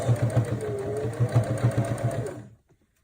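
Home sewing machine running a 2.5-length straight stitch with a back stitch, for a car trash bag: a steady close-up whir with rapid regular needle thumps for about two and a half seconds, then stopping abruptly into silence.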